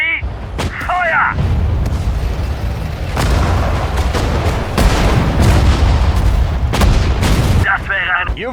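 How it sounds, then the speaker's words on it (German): Artillery fire in the WWII strategy game Sudden Strike 4 during a German campaign battle on the Eastern Front: a steady barrage of loud booms and cracking shots, dense and continuous, with brief voice lines at the start and end. "Artillerie, Feuer!"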